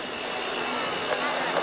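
Fokker F-27 Friendship airliner at an airshow, its engines producing a loud, steady, broadband roar that holds unbroken throughout, close and dominant.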